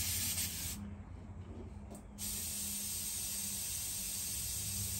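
A PS290 airbrush sprays paint onto a fishing lure, giving a close, steady hiss that briefly drops away and then resumes and holds continuously.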